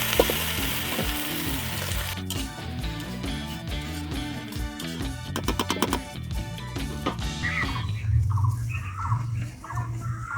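Banana blossom curry cooks in a thick pan, sizzling and crackling steadily while utensil clatter and stirring knocks run through the middle, easing into quieter bubbling toward the end.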